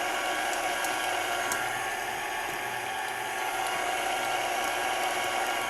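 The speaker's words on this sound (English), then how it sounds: "we'll keep whisking until creamy and fluffy" Electric mixer whisking room-temperature butter with sugar until creamy and fluffy, a steady close broadband whir that holds constant throughout with no talking.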